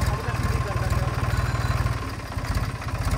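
A tractor engine runs close by, pulling a trolley, with a fast, steady, low-pitched chugging pulse throughout and loud broadband noise over it.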